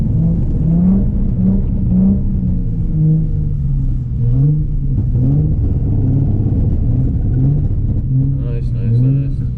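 A Nissan 350Z engine revving and wailing through repeated throttle swells while drifting on a track, loud and close, rising and falling pitch, with a driving instructor talking over it.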